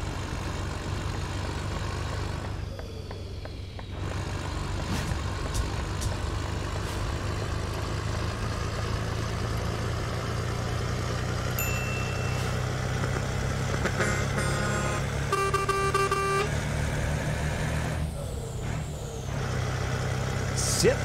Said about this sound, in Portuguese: tá top demais o som desse caminhão